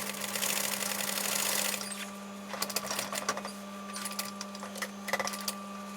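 A sewing machine stitches fabric for camper cushions, a rapid close mechanical whirr running in bursts, then stopping and giving way to clicks and small handling knocks over a steady electrical hum.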